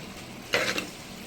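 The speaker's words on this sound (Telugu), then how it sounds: "చికెన్ ఇంకా వేగుతుందండి, వేగాలి." A brief burst of sizzling from chicken frying in a pan as the pieces are stirred, a short loud hiss lasting about a quarter second over quiet kitchen background.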